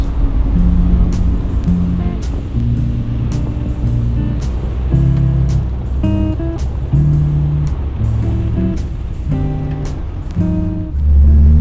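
Engine of a 1939 Alfa Romeo touring car with Superleggera body climbing a hill: a loud, steady mechanical drone with shifting tonal whine and repeated clicks throughout, rising slightly near the end.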